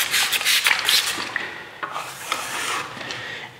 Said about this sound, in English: You just want to just smooth it down over and over again with a wet trowel until it's perfect.